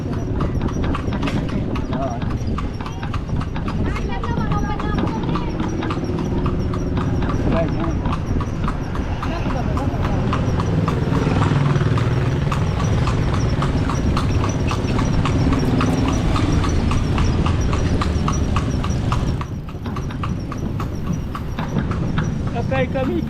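Horse hooves clip-clopping steadily during a horse ride on an Ilocos trip, a continuous rhythmic trot heard close and loud under people talking and outdoor background noise.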